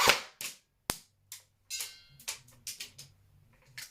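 A battery-powered gun firing on semi-auto: about a dozen sharp, close snapping shots in an irregular sequence with brief gaps between them.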